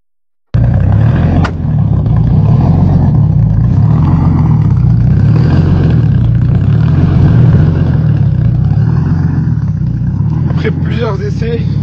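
A BMW E36 turbo car drives on a mountain road, its engine a loud, steady, close droning growl that holds on without pause, with a brief rise in pitch near the end.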